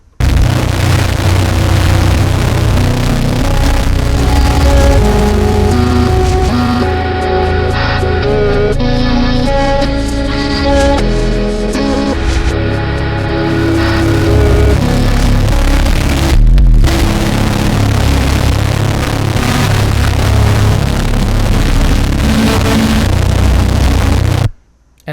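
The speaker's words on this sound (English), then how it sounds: "when you run it through Ableton's amp on the heavy setting," A dense, distorted noise drone run through Ableton's amp effect on the heavy setting roars continuously for the whole stretch, heavy and saturated, briefly dipping once before cutting off at the end.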